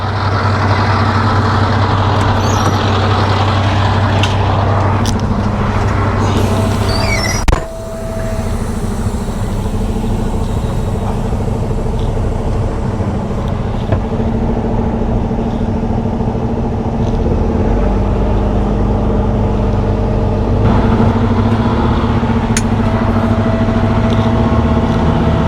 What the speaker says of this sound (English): we're gonna sit here and back up, get reconnected to the trailer